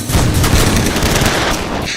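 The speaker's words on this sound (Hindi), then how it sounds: "अब वो हम पे गोली चला रहे" Dense, rapid gunfire crackles continuously, a loud sustained volley of overlapping shots with booming low rumble throughout.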